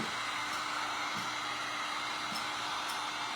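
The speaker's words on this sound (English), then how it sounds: "Now we're gonna dry this because I need to make sure that it's completely dry" A craft heat tool blowing on DIY paint to dry it, a steady loud whooshing drone that stays close and unbroken throughout.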